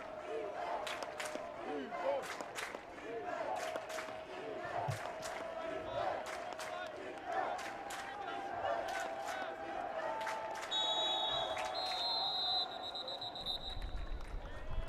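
Crowd at a Hardin-Simmons vs Chapman college football game roaring and cheering from the stands, a sustained wash of distant voices with sharp claps and shouts rising and falling, building louder toward the end as a whistle-like tone enters.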